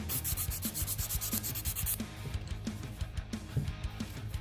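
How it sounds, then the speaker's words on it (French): A hand nail file rasps back and forth across gel nail polish in quick, regular strokes, close and fairly soft, with a brighter scratchy texture at first that turns duller as filing continues. "sans appuyer, la lime va faire le travail"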